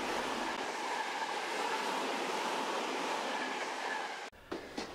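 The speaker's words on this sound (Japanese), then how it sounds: "東急田園都市線長津田の車両基地から長津田駅に向かって出発していくところです" A Tokyu Den-en-toshi Line electric train departs the Nagatsuta depot in early morning, rolling steadily with a smooth whirring hum and faint rail noise, then abrupt clunks as it moves off.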